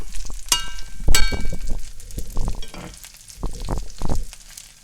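Lamb browning in a hot pan, a loud close sizzle with bursts of spattering, two sharp metallic clinks near the start and the scrape of turning pieces, with no speech.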